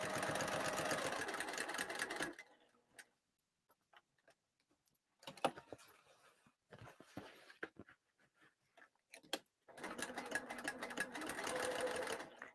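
A sewing machine stitches a bag lining at an eighth-inch seam, running in a loud steady whir, pausing for a stretch of quiet clicks and short bursts, then whirring steadily again.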